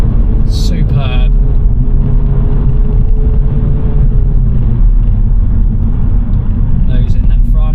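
A 2024 Mini Cooper S hot hatch engine pulls steadily and loud while driving hard through corners, a continuous low drone with rising and falling tone, heavy road rumble beneath.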